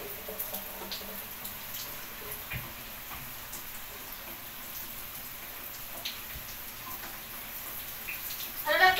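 Shower water running onto a dusty plastic plant in a bathroom, a soft, steady patter and hiss at low level, with a brief louder splash near the end.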